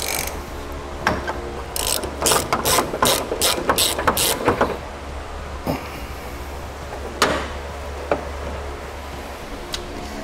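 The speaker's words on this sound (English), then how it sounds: "We're going to remove this bolt right here using a 21 millimeter socket and a couple of long extensions." A ratchet with a 21 mm socket and long extensions works a bolt loose on a 2007 GMC Sierra. A quick run of sharp close clicks is followed by a few scattered single clicks against a low background hum.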